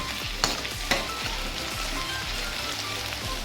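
Potatoes fry on a high gas flame with a steady, close sizzle that runs throughout, broken by a couple of light stirring clinks near the start, with no talking.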